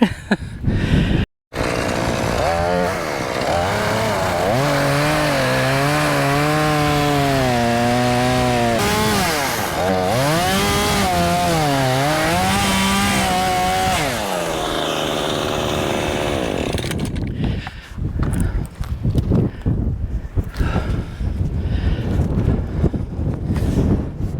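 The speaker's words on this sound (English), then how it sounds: "chainsaw time again" A chainsaw roars loudly and steadily, its pitch rising and falling as it bites through a large dead post oak, then cuts out into rough crackling and scraping.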